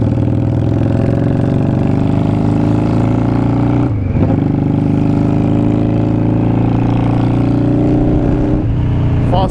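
A Yamaha Virago 535 motorcycle runs while being ridden, its engine droning loud and steady close to the mic, with a brief dip near the four-second mark and a rising rev at the end.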